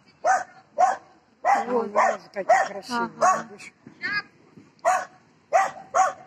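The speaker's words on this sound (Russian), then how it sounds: "Собака, не лай, не лай, не лай." A dog barks repeatedly outdoors in sharp, close bursts, with several clustered runs of barks and short pauses between them, while a person speaks briefly.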